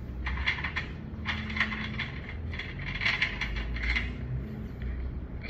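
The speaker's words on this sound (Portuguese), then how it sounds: "fazendo as flanges ali agora, ó, pra fazer a conexão no ar-condicionado e depois fazer o aperto" A flaring tool forming flares on copper refrigerant tubing while an LG dual inverter air conditioner is installed, making repeated close metallic clicking and ratcheting bursts in a steady rhythm, with no talk.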